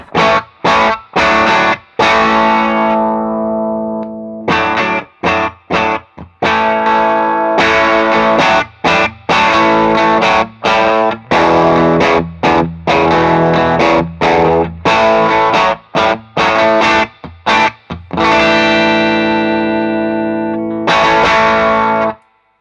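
An electric guitar runs through a Tube Screamer-style overdrive clone, playing loud, saturated chords and riffs with snappy attacks and brief choppy gaps between phrases, alone without talk.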